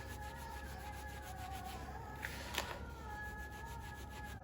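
Lemons rubbed with sugar by hand for homemade lemonade, a continuous soft gritty rubbing with a couple of brief louder scrapes, close up and without talk.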